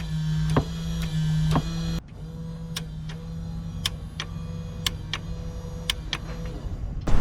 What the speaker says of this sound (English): You could hear the little click and difference.